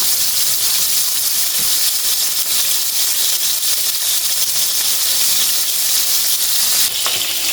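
Kebabs sizzle and fry steadily in a hot pan after being turned, a loud, continuous close hiss with faint stirring clicks and no talk.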